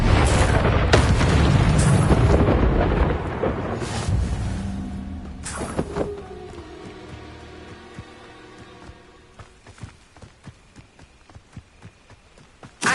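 The Incendio fire spell is cast in the Hogwarts Legacy video game: a loud, deep booming burst rumbles for several seconds, then fades into a string of lighter crackling clicks and rattles.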